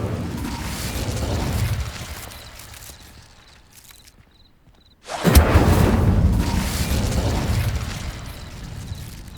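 An Incendio fire spell cast in Hogwarts Legacy lands as a sudden loud whooshing burst after a quiet lull, then roars on as a broad sustained rush, with steady ambient noise before it.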